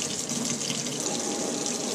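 Tap water runs steadily into a sink for soaking a plastic fuel line from a 1988 Ford F150, a continuous, full hiss and splash that stays loud and even throughout with no voices.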